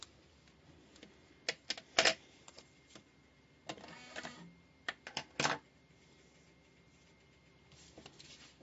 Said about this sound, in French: M'agace l'imprimante qu'on entend